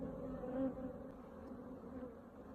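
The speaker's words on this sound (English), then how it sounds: "this box is getting all the flying bees" Honey bees fly around a hive box in the woods, a soft, continuous buzzing hum that is faint and close, with no voices.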